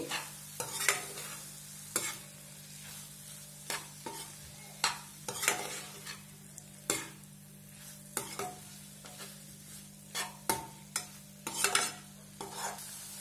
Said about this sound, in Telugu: ఇలా 1 నిమిషం పాటు బాగా వేపుకున్నాం కదా, meal maker egg fry ready అయిపోయిందండి.